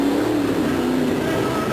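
A 1972 Chevy monster truck with a 580 cubic inch engine roars loud and close at a 1989 USHRA monster truck event in Phoenix, Arizona, its revving drone steady throughout with crowd noise beneath.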